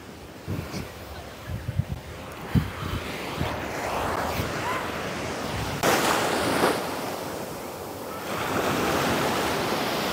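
Ocean waves roll onto Seven Mile Beach in Grand Cayman behind a resort at sunset, a steady surf wash with wind buffeting the microphone and a few louder gusts, no talking.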